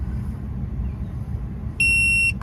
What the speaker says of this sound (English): You just push and hold it, and it will beep at you.